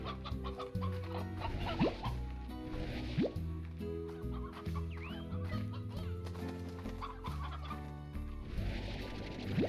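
Chickens in the Slime Rancher video game cluck and squawk in a busy overlapping chorus, with game music chiming underneath and a few sharper calls cutting through.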